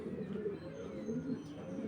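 Racing pigeons cooing softly in a steady low murmur, faint and continuous, no talk.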